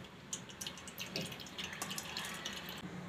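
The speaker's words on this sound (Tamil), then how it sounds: "இப்ப இந்த மாதிரி வடிகட்டி வெச்சி வடிகட்டிங்க" Ragi (finger millet) flour milk strained through a kitchen strainer, a soft trickle and patter of liquid with small drips, faint and steady throughout.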